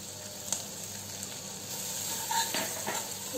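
Finely chopped onion with green chilli frying in a pan: a faint, steady sizzle with a few light stirring clinks, no voices.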